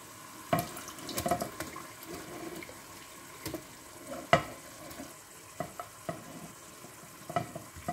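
Minced kefta meat fries in a hot pot over lowered heat, giving a quiet sizzle broken by irregular scrapes and clatters of a spoon stirring, with no talking.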